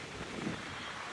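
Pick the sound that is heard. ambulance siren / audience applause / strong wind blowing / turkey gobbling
strong wind blowing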